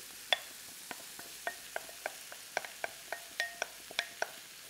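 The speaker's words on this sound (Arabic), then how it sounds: "تشويحة مع معجون الطماطم، وكمية كبيرة من الطماطم أو البندورة" Tomato paste and chopped tomatoes being stirred in a pan for a simple fish stew, with a faint background sizzle under a string of sharp spoon scrapes and clicks at an uneven, steady pace, close by.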